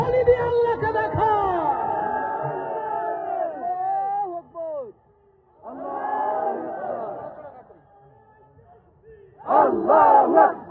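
A large crowd shouts the takbir, Allahu Akbar, at a religious gathering. The loud unison chant comes in three bursts: a long one, a shorter one after a brief pause, and a final surge.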